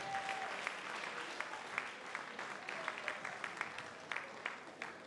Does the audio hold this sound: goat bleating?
no